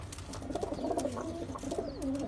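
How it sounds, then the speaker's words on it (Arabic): Pigeons kept in a loft give soft, repeated throaty coos close by, several overlapping calls with faint background rustle and no speech. "هاي تور للبيع كلها طيور حلوة"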